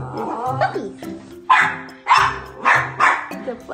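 West Highland White Terrier dogs with five-week-old puppies bark close by, four sharp, loud barks in an uneven rhythm that follow a person speaking.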